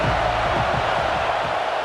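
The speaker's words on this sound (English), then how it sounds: "This crowd ready to make its presence known." Dense, steady crowd roar from a packed stadium in EA Sports College Football 26, a loud continuous wash of cheering with low rumbling swells and no clear breaks.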